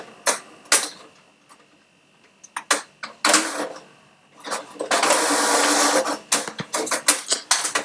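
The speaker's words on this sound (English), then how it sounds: "Printer's already on, so I'm just going to print that and we will read all about it." An inkjet-style office printer running off a beer profile sheet: a series of sharp mechanical clicks and clacks, then a sustained whirring feed pass mid-clip, followed by more clattering clicks, close by with no speech.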